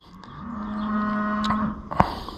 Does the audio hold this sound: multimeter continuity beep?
no